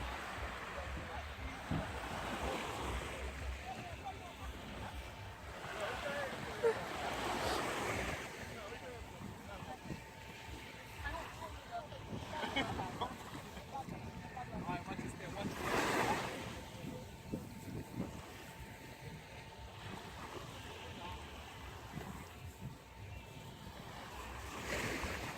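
Ocean surf at Vibes Beach on St Kitts washes in a steady broad roar, with wind buffeting the microphone and soft swells rising and falling throughout.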